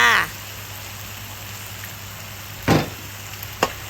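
Flat rice noodles stir-fried with dark soy sauce in a pan: a sizzle at the start, then quiet background frying, with two short sharp bursts as the noodles are tossed, and someone talking over it.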